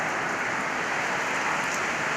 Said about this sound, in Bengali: খুব বিদ্যুৎ চমকাচ্ছে এবং বৃষ্টি হচ্ছে দেখুন